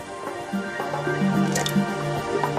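The last of the milk trickling and dripping into a pan for manjar blanco, with wet squishy drips and small splashes close by, plus a faint hum behind them.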